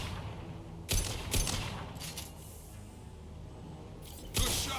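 Gunfire in the video game Mass Effect 2: a few sharp, loud shots spaced out across the stretch, with a final burst near the end, over a low steady game ambience.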